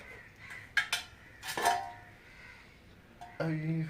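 A metal vessel is picked up for collecting honey, giving a few sharp metallic clinks and scrapes at irregular intervals, close by, with a resonant ring near the end and quiet movement between.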